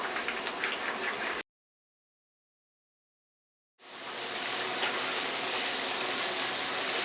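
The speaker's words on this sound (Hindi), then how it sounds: "अब आपने चूल्हे को तेज़ कर देना है और इसको फुल फ्लेम पे अपने फ्राई करना है" Pakora fries deep-frying in hot oil on a full flame make a loud, dense, rain-like sizzle that cuts out to silence for a couple of seconds and then comes back just as strong.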